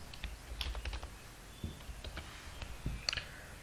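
Typing C# code on a computer keyboard: irregular runs of light, close key clicks and taps, quiet and steady, with no speech over them.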